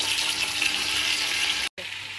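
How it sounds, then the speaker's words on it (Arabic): Chicken pieces frying in oil for Iraqi maqluba give a dense, continuous close sizzle that cuts out for a moment and then resumes. "بعد ما حمرنا الدجاج على هذا الشكل هذا غنضيفوا البهارات كلها"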